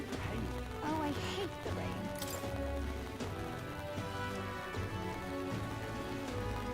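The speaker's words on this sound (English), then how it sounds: "I hate the rain." Rain falls steadily in the video game Metaphor: ReFantazio, with a continuous patter of drops on surfaces under game music and scattered effects.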